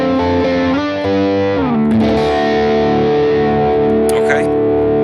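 An electric guitar plays through a BOSS GT Plexi/Brit Stack amp model with a phaser, sustained distorted notes and chords ringing continuously with a sweeping swirl, loud and close.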